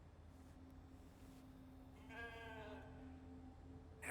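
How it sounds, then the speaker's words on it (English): Sheep bleating in the video game The Alters, a short wavering call of a few pulses rising over a steady low game hum and background drone, moderately clear but not loud. "Let's pet the sheep."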